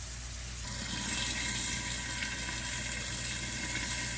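Thin potato slices fry in a pan, a constant hissing, bubbling sizzle of oil that holds at an even level, close and alone without speech.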